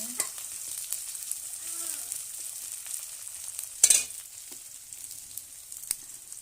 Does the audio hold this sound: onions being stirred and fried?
yes